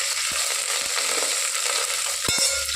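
Garlic, curry leaves and cut chilies fry in hot oil, giving a loud, dense sizzle with a few soft knocks of a spoon against the pan.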